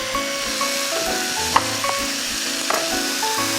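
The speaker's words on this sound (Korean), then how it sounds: "이렇게 해서 같이 가자미도 굽고 브로콜리도 한번 살짝 데워주시면 돼요." Flounder and broccoli fry in butter in a pan, giving a steady close sizzle throughout with a few sharp pops and clinks of a utensil against the pan.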